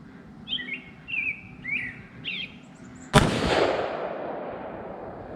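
A single sharp FN AR-15 rifle shot fired at a target outdoors, a loud crack with a short ringing decay, preceded by several bird chirps in the background.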